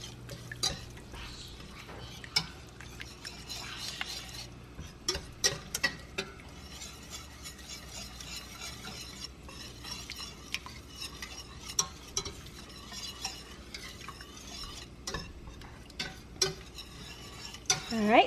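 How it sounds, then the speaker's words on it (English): A whisk scrapes and clicks through heavy cream and melting cheese in a pan, light repeated strokes with small metallic taps over a faint low simmer, quiet and close, no voice. "I'm going to whisk it around the best I can right now and let that cheese melt"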